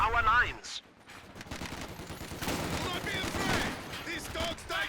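Machine gun bursts and scattered gunfire in a Company of Heroes 2 1v1 match, rattling steadily mid-distance through most of the stretch, with a commentator talking over the battle noise.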